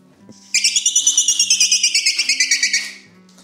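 Hare distress call imitated on a whistle, a rapid pulsing squeal of about twenty even, high, wavering bursts lasting a few seconds, close and loud over a faint low hum.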